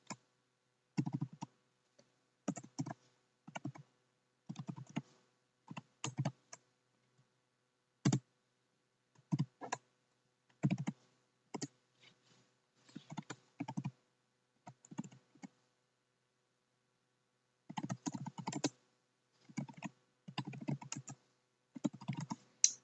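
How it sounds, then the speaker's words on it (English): Computer keyboard keys typed in short bursts of quick clicks with pauses between, close and fairly quiet in an otherwise silent room. "that's what I'm going to type in"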